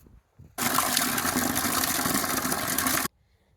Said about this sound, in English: So I'm gonna go fill up the bucket.